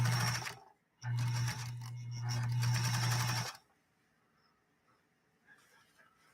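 A Pfaff 130-6 sewing machine run by foot controller, a loud steady motorized whir in two bursts with a short pause between, then stopping into quiet room noise.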